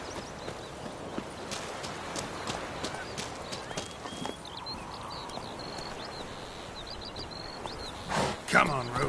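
Hooves of Roach, Geralt's horse in The Witcher 3, clip-clop steadily across the scene amid ambient birds and a faint snort near the end, with speech in the background.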